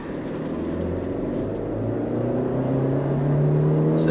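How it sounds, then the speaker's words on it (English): A Mahindra Scorpio N SUV with a 6-speed manual gearbox accelerates hard from inside the cabin, its engine note climbing steadily in pitch and growing louder over four seconds, with no talking. "this is a manual transmission which we are driving, a 6-speed manual transmission"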